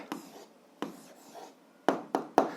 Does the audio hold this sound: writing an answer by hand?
yes